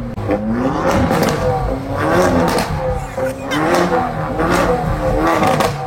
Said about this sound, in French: vous entendez un peu le son du moteur là quand on ouvre les fenêtres